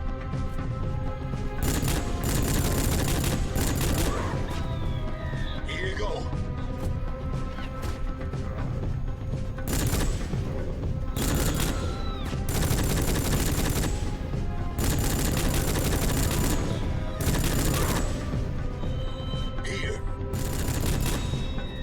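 Relentless gunfire in the video game Rogue Trooper, dense bursts of automatic shots and sharp cracks hammering in repeated waves at close, loud range over a constant battle din.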